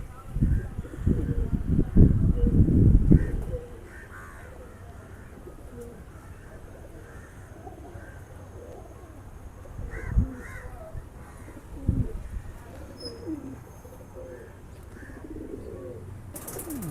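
Pigeons circling above their home loft during a training flight, with a burst of loud wing flapping at the start, then soft scattered coos and a few brief calls over quiet outdoor background.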